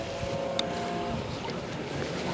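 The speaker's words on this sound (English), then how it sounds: "The wind is strong up here." Strong wind gusts buffet the microphone high on Mont Saint Michel under heavy cloud. The roar is steady and broadband for a couple of seconds, with a faint brief knock partway through.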